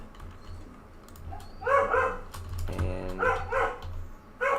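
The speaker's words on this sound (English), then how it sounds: "Sorry about the dog." A dog barks indoors in several short bursts, close and fairly loud, over a low steady hum, with a single spoken word early on.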